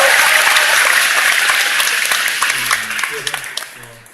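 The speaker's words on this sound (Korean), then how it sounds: "박수 박수" A studio audience at a live music talk show taping applauds in a dense, sustained burst that starts loud and gradually thins out, with a few voices and tones emerging near the end.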